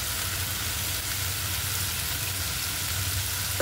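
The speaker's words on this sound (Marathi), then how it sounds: "कांदा टमाटर खूप छान भाजून घ्यायचे आपल्याला।" Chopped onion and tomato fry in a pan as part of a sprouted matki bhaji, giving a steady, dense sizzle that stays close and even throughout with no talking.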